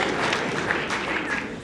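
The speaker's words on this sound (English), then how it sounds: "Give yourselves a round of applause." Brief burst of audience applause at the Enough! launch event on Darfur in Washington DC, a dense, steady clatter of many hands at close range, with speech mixed in.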